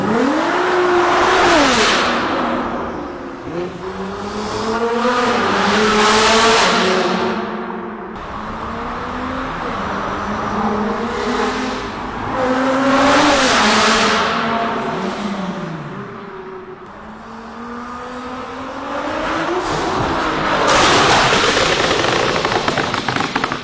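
A Nissan GT-R engine accelerating hard through a curve, loud and close, with repeated rising and falling revs, crackling pops and bangs from the exhaust between pulls, and no talking.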